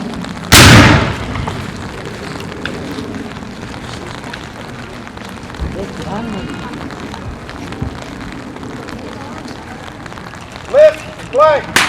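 A burst of gunfire at a historical battle reenactment at Howick Historical Village in New Zealand. One loud close shot rings out near the start. Quieter pops and commands follow over outdoor crowd noise, and voices come back near the end.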